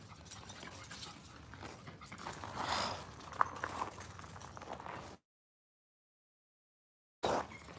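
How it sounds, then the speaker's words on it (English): A pet dog pants and moves about outdoors on a morning outing, with soft breathing and shuffling sounds at close range for several seconds, then a silent gap before a brief burst of noise returns. "That's my dog, you guys."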